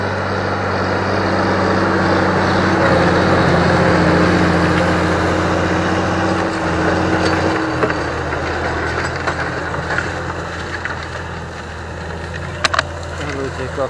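Large Fendt LSA 614 Turbomatik E tractor working a field with a disc harrow, a loud, steady diesel drone with heavy low rumble throughout, easing slightly partway, with someone talking over it.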